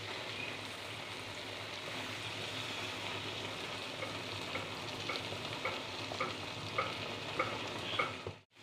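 Half a litre of fresh Amul milk pours into a pan of sizzling raw jackfruit curry, a steady frying hiss and bubbling with stirring sounds, ending in a brief clatter.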